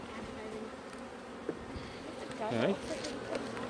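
Honey bees hum in a low, continuous drone close by at an open hive, while a person speaks briefly and hive equipment clatters softly.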